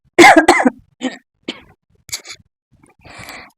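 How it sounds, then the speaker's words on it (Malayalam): A woman coughs hard several times, a loud burst of close harsh coughs followed by shorter, quieter coughs and throat clearing separated by silent gaps. "നല്ല ചുമയാണ്"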